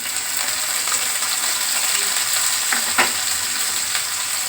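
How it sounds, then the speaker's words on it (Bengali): Chopped garlic frying in hot oil gives a dense, even sizzle up close, with a couple of brief utensil clinks near the end and no talking. "রসুন কুচি দিয়ে দিলাম রসুনটা একটু ইয়ে একটু ইয়ে হবে ভাজা"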